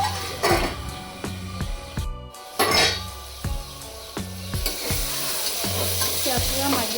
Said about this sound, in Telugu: టమాటా వేసుకొని కాసేపు మగ్గనిద్దాం